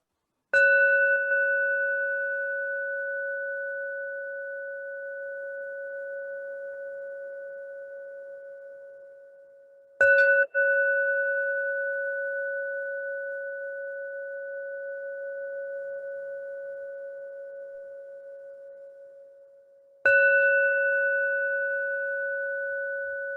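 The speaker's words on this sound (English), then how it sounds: "when you hear the sound of the bell, assuming you can hear it well, let that sound bring you back to your body" A meditation bell is struck three times about ten seconds apart, each strike a clear ding that hangs in a long, steady ringing tone and slowly fades before the next. Nothing else is heard around the bell.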